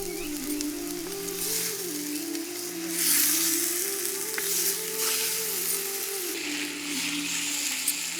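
Pieces of goat blood fry in a pan until their water cooks off, giving a steady, loud, close sizzle with occasional stirring scrapes and no talking.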